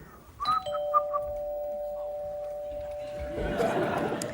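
A voice imitates a doorbell, a sustained two-tone hum ringing steadily for several seconds, ending in a burst of laughter and noise.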